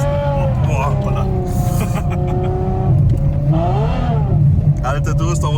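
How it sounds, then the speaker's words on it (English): Ferrari F12 V12 engine revving while sliding sideways through snow, its rising and falling engine note loud and close beneath people talking over it. "This is V12 Ferrari, er fährt jetzt schon quer"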